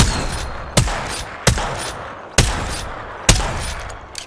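Gunfire from a ship-combat video game: four sharp, loud shots at uneven intervals over a steady roaring background, with no talk.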